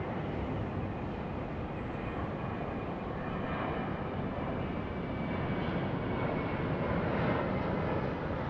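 A Qantas airliner lands on runway 34 left at Sydney Airport, its engine roar a steady, loud broadband rumble that holds evenly throughout with no voices.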